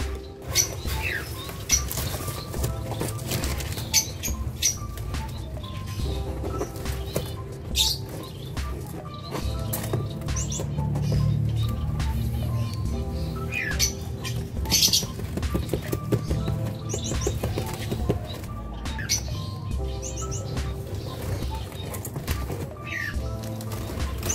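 Newly acquired caged birds flutter and flap their wings in bursts inside an enclosure, mixed with occasional chirps and scratching, close by.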